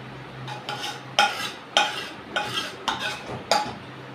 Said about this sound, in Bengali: এদিকে ডাটা চচ্চড়িটা আমার হয়ে গেছে, তো এটাকে আমি নামিয়ে নিচ্ছি। একটা থালা নিয়ে নিয়েছি, এই পাত্রটার মধ্যে এটাকে আমি ঢেলে দিচ্ছি।